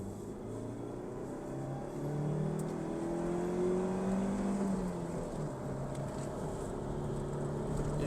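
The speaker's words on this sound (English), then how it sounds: "This car just really grips and goes." A Proton Satria GTi car accelerates on a drive with a steady, low engine drone heard from inside, its pitch climbing gradually as it pulls harder, with continuous road and wind rush.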